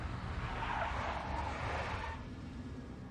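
Tires of a big black Mercedes skid in the Max Payne video game, a single rough screech lasting about two seconds over steady background noise.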